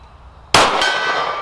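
A 9mm pistol round strikes a steel gong target with one sharp, loud metallic clang that rings on and slowly fades, after a quiet moment of low background noise.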